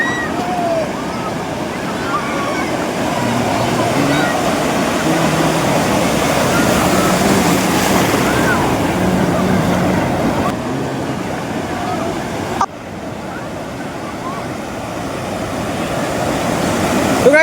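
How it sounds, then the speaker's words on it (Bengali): Big ocean waves roll in and break on the shore at Digha beach, heard as a loud, steady wash of surf mixed with wind buffeting the microphone. Voices sound faintly in the background at times. "ঢেউগুলো আসতে দেখো একটু।"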